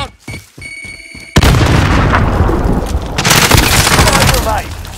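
A video game grenade goes off with a sudden loud boom after a short stretch of quieter clatter. The blast leads into a dense, sustained roar of gunfire and explosions that stays loud to the end.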